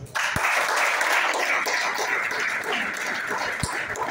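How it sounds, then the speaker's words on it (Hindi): A workshop audience breaks into vigorous applause that starts abruptly and continues as a dense, steady wash of clapping, with a couple of sharp thumps partway through. "डॉक्टर आरपी सर के लिए जोरदार तालियां।"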